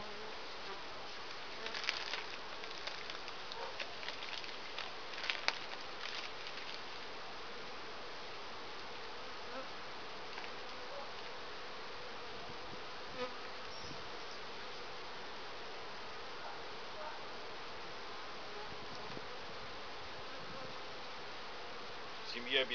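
A dense swarm of honeybees with their queen removed buzzes continuously at a soft, even level around hive frames, with occasional faint rustles and taps.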